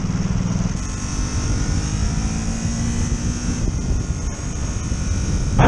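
A Ducati SuperSport 939 motorcycle, with the same engine as the Monster, drones steadily and loudly while being ridden, with wind rush mixed in and no talking.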